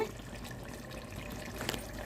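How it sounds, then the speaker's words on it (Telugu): A glass of water pours in a steady, splashing stream into a pot of mutton masala curry for about two seconds, close by, with no voices. "ఇప్పుడు గ్లాస్ వాటర్ వేసుకుందాము"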